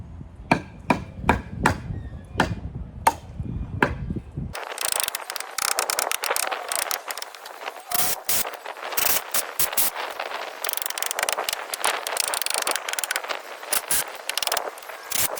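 A cordless drill drives screws into wooden fence planks: a few sharp separate bursts at first, then a long stretch of dense ratcheting whir and clatter close by, with no talk.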